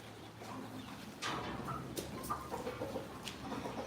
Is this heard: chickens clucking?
yes